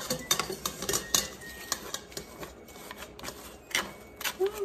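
A metal spoon clinking and scraping in a bowl while mashing thawed blackberries for jam, with quick irregular taps and scrapes at close range and no talk.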